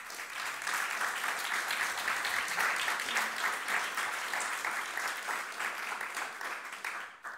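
An audience in a chapel applauds, a sustained, even roll of many hands clapping, moderately distant and steady for over seven seconds.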